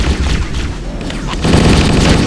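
Gunfire in the video game Halo: Combat Evolved rolls as a dense, loud, continuous rattle of shots and booms, thickening toward the end, with a voice faintly underneath.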